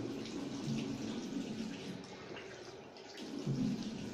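Hot tap water runs steadily into a sink while someone rinses their face after shaving, a soft, close splashing stream with small irregular splashes and no talking.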